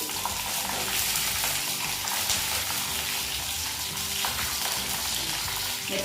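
Slit green chillies fry in hot oil with a dense, steady crackling sizzle that stays loud and even throughout, with no speech.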